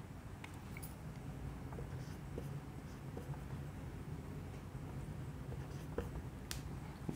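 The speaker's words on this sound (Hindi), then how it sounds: "देखिए रेड मार्कर से लिखते हैं," A red marker squeaks and scratches across a whiteboard during a physics lesson, the strokes steady and fairly quiet against a constant background hum.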